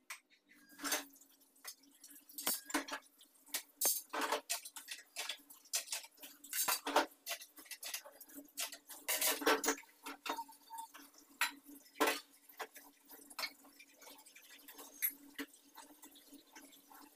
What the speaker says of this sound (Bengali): কিছু বাসন জমেছে সেগুলো ধুয়ে নেব